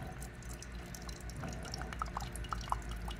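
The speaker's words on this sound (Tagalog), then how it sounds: "Tingnan natin kung may lalabas dyan na tubig" Hot water runs from a front-load water dispenser during a diagnostic check, a steady close trickle with scattered drips and small splashes throughout.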